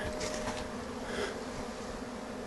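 A honeybee swarm pours out of a hive high up, a dense continuous buzz close around with a steady droning texture.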